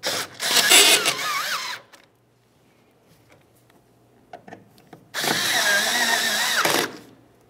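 Power drill driving the taillight mounting screws on a 2005-2010 Dodge Dakota: two loud whirring runs of a couple of seconds each, with a pause and faint handling clicks between them.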